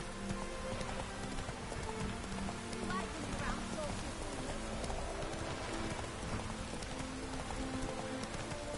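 In a video game, the hooves of a horse named Roach clip-clop in a steady, continuous rhythm over a rain-like patter and low ambience, with talking throughout.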